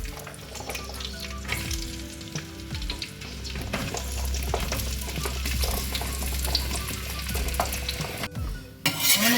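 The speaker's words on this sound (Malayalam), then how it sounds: "വെളിച്ചെണ്ണ ഒന്ന് ചൂടായി വന്നോട്ടെ ചെറുതായിട്ട് ചൂടായി വരുന്നുണ്ട് ഇതിലേക്ക് ഈ പപ്പായ ഇട്ട് കൊടുക്കുകയാണ്" Papaya pieces sautéing in hot coconut oil for a masala curry give a close, steady frying crackle with intermittent clinks and scrapes of a utensil against the pan, and no speech.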